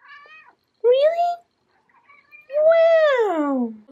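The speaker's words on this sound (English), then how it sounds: "That was the cutest little meow I've ever heard." A cat gives two clear meows close up, a short rising one followed after a pause by a longer, louder drawn-out cry, with faint quieter sounds between.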